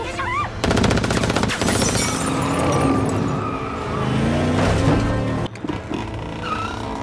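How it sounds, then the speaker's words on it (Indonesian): Gunfire from an attacker in a suspicious black car in an action film: loud bursts of rapid shots over a running car engine, with a sudden cut near the end. "tiba-tiba sebuah mobil hitam mencurigakan datang dan seorang penyerang tidak dikenal langsung menembak ke arah Raina"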